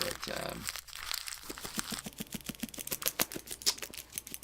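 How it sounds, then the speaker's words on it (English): Cat tearing and crumpling paper nearby, a rapid series of crinkly rips and rustles that grow busier toward the end, with a brief spoken word mixed in. "And that's my cat tearing up my papers"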